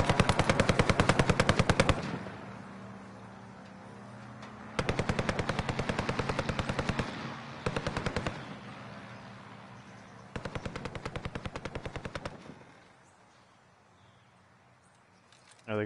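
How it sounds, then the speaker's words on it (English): Bursts of automatic gunfire in the Warzone video game, four long rapid volleys separated by short pauses, loud and close with faint background noise between them. "Shooting at him."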